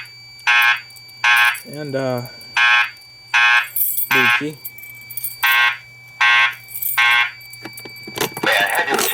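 A building fire alarm set off from a pull station sounds a loud, evenly spaced series of horn blasts, each paired with a steady tone. A voice speaks briefly between the blasts, and noise builds toward the end.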